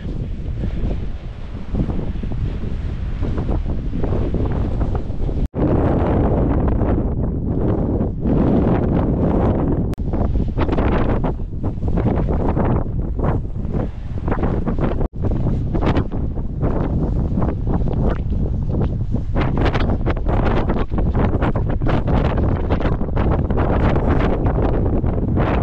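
Strong wind gusts buffet the microphone on a hike through a snowstorm, a loud continuous roar with surging bursts that never lets up.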